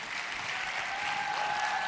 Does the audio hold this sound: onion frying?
no